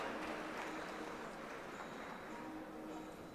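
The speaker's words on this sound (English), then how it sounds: "Please give a big round of applause." A big round of applause at a live university endowment lecture event in Mumbai, a steady wash of many hands clapping at moderate distance throughout, with no clear breaks.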